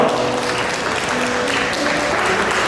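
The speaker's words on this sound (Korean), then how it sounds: "다시 한 번 박수를 부탁드리겠습니다" Guests clapping during a wedding ceremony at The Ariel in Suwon, Korea, after the parents embrace the couple. Continuous, fairly loud applause from a hall crowd, with faint voices mixed in.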